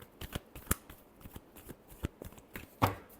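Tarot cards being shuffled by hand, a quick series of soft riffling flicks and taps close up, ending with a sharper snap as the deck comes together.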